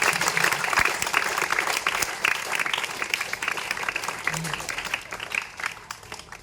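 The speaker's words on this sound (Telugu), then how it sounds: "పేరు పేరున గట్టి చప్పట్లతో ధన్యవాదాలు" Steady applause from an audience at a government school event for the donation of a sound system, dense clapping sustained throughout at moderate loudness with some crowd murmur.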